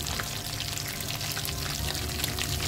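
Cheese potato cutlets fry in hot oil in a pan, a steady, close crackling sizzle that stays even and unbroken, with no talking.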